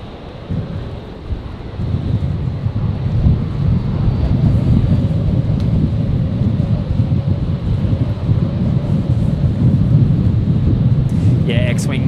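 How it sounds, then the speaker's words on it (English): Strong crosswind at Brisbane airport roars and buffets across an outdoor microphone in a loud, continuous, low rumble that builds after the first moments and holds steady throughout. "I'm going to try and get out of this wind a little bit."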